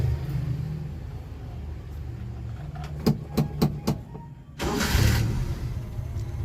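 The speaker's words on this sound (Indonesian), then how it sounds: "ini suara mesinnya halus" An old Suzuki Carry pickup engine idles with a low steady rumble, a few sharp clicks partway through, then a brief surge of broadband noise as it revs.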